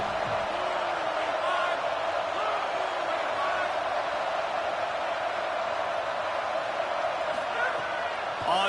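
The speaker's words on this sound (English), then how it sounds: "Listen to this crowd just shaking the girders of this place," A packed stadium crowd roars at an LSU versus Texas football game before a big third down, a dense, loud, continuous wall of cheering with a commentator speaking over it.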